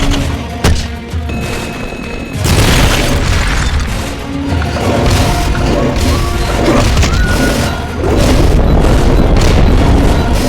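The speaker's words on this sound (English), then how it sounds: "Launching S-mines." S-mines detonating in a big battle in the video game Metal Gear Solid: Peace Walker, heavy booming blasts in rapid succession that build into a loud sustained barrage of crashes and rumbling impacts.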